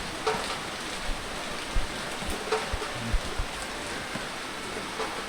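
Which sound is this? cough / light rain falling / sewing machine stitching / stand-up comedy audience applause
light rain falling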